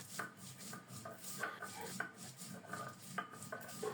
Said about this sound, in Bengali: একটু আদা বেটে নিচ্ছি, আদাটা আলাদা করে নিচ্ছি